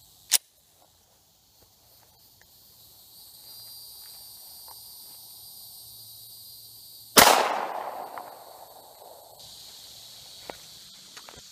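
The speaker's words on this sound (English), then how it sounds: "Okay, first shot on the body armor toilet seat, Glock 19, 9mm." A Glock 19 9mm pistol is fired at a toilet seat used as body armor, giving one sharp, loud shot with a ringing decay that lingers about two seconds, plus a faint click beforehand and low outdoor hiss.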